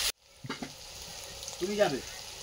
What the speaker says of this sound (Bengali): লবণ দিলে পেঁয়াজটা খুব তাড়াতাড়ি ভাজা হয়ে যায়।